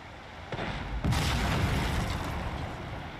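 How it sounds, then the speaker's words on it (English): Ship cannons fire a broadside in a Shogun 2: Total War naval battle between a galleon and heavy ships, a loud booming barrage that starts with one shot and swells into a sustained, rumbling volley. "Give one final broadside to these guys and their misery."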